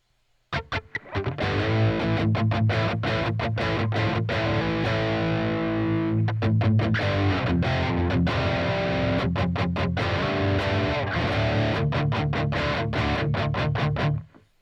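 Electric guitar through a digital amp simulator with moderate overdrive plays a busy riff of chugging chords and picked notes, loud and continuous, crunchy but not heavily saturated.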